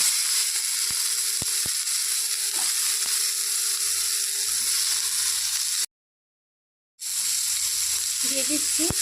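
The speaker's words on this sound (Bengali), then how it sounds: "এখন ওই তেলের মধ্যে কেটে রাখা বেগুনগুলো একটু ভেজে নেব" Cut eggplant frying in hot oil, a steady close hiss of sizzling with a few sharp clicks and knocks, cut off briefly by a silent gap before the sizzling resumes.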